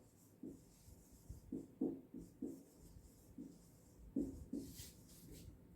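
Writing out multiples of 12 in a lesson, with a string of light, uneven pen or chalk strokes and taps in a quiet room.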